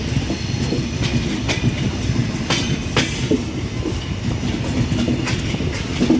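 The Padma Express intercity train rolls into Ishwardi bypass station on a curve, giving a steady heavy rumble with rhythmic clickety-clack from the wheels and faint squeals, loud and close.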